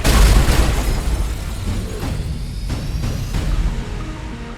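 A bomb goes off in a Fast & Furious 8 trailer, a loud booming blast at the start that fades into a long rumbling tail of debris and echo.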